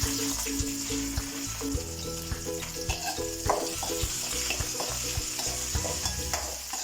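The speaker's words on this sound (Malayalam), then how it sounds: "ഇതിലേക്ക് കുറച്ച് കറിവേപ്പില ഇട്ട് കൊടുക്കാം, പച്ചമുളകും ഇട്ട് കൊടുക്കാം." Curry leaves and green chillies crackle and sizzle in a hot pan for chicken curry, a close, continuous frying hiss with scattered pops and some stirring.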